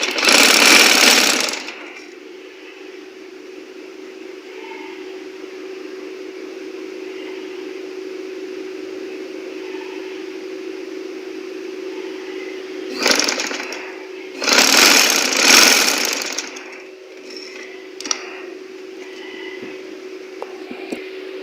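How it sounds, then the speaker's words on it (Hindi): A sewing machine stitching the shoulder seams of a girls' dress, with a steady, sustained whirring run framed by a few louder, rougher bursts at the start and near the middle. "तो यहाँ पर हम सिलाई की मदद से जॉइन कर लेंगे दोनों को आपस में।"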